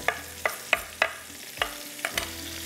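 Capsicum, green onion, tomato and green chillies are stirred into bhuna gosht in a pan: about seven distinct scraping knocks of a spoon over a soft sizzle, close and fairly quiet, with no speech.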